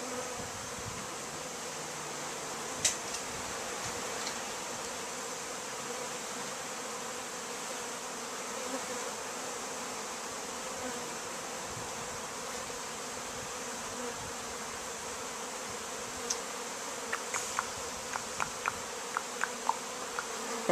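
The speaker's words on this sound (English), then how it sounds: "Get out of there, you lazy bees." Honey bees from newly arrived package boxes buzz steadily around the box, a dense continuous drone with a few sharper passes close by.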